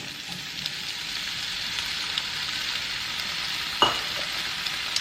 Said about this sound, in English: what I'm going to do is toss in the potatoes that we've already chopped